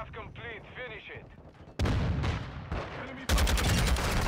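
Rapid gunfire at a shooting range in the video game Modern Warfare 2, first faint under someone talking, then jumping to loud, dense bursts of shots that grow louder toward the end.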